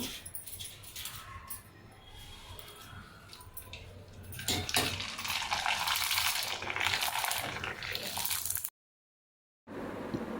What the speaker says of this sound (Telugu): ఆయిల్ అయితే కాగిందండి మన వడియాలు వేసుకున్నాము